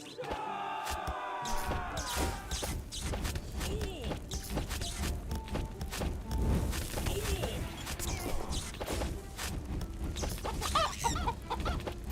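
Chickens cluck busily in the video game Cursed Treasure 2, loud and repeated amid scattered game effects and a crowd-like bustle.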